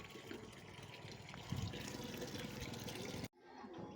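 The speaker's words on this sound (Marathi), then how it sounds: "भरा पाणी." Water filling a container at a farm, a continuous splashing rush that grows louder midway and then cuts off abruptly near the end, with faint voices in the background.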